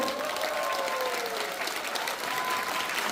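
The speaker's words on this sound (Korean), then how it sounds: "박수 한번 주십시오" Large crowd of about 400 merchants and officials applauding at a Gwangju Buk-gu alley shopping district merchants' association launch ceremony; steady dense clapping fills the room throughout, with a faint tonal line from the PA underneath.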